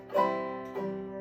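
A single plucked banjo string note with a dull, damped tone, followed by a second softer pluck that quickly fades without ringing out.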